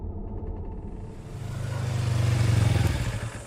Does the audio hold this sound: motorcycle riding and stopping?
yes